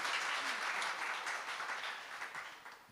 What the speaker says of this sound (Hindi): एक बार उनके सम्मान में ताली बजाएं